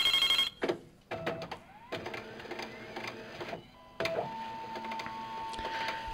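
A fax machine in the Resident Evil 2 video game prints a report. The clip opens with a few beeps and clicks, then a steady mechanical printing whirr with a tone that holds, fairly close and alone.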